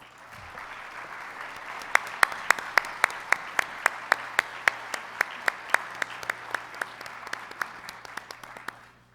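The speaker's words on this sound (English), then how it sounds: "Let's give our students another round of applause." Audience applauding students at a Women of Color technology awards gala; a sustained round of many hands clapping, with a few sharp near claps standing out in a steady rhythm, no talk.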